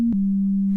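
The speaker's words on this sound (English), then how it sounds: "Oh, this is a pure sine wave." A pure sine wave synthesizer preset sounds as a clean, steady, loud low tone with a small pitch drop just after it begins, held without any other sound.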